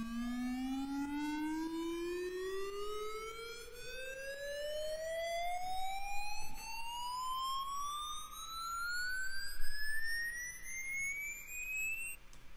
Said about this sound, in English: then I have this riser that I made in Serum